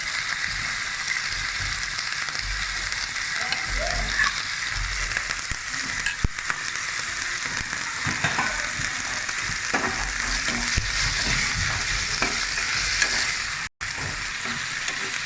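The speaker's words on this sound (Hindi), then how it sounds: "अभी हम इसको लहसुन अदरक के साथ थोड़ा सा फ्राई करेंगे ताकि लहसुन अदरक जो है वो थोड़ा सा पिंक हो जाए।" Chicken frying with garlic-ginger paste gives a continuous loud sizzle, with spoon stirs and scrapes through it and a brief dropout near the end.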